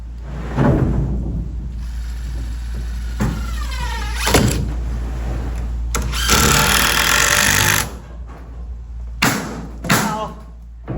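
A power drill backing screws out of a log home, with short whirring bursts, thumps and clatter of handling between runs, a longer drill spin in the middle; a voice speaks over parts of it.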